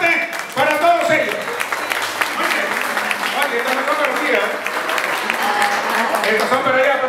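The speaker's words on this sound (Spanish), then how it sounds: "el aplauso bien fuerte para todos ellos." Loud applause fills an anniversary celebration of a Peruvian community in Southern California, steady clapping throughout with voices and cheering mixed in over the crowd.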